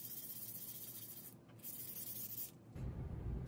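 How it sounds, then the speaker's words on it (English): Sandpaper worked over a wooden Jacobean buffet and its raised edges, a continuous close scratchy rubbing with brief pauses as strokes change, then a heavier, coarser scrubbing at the end. "So I'm going over the entire piece using the sandpaper and also focusing on the raised edges and details."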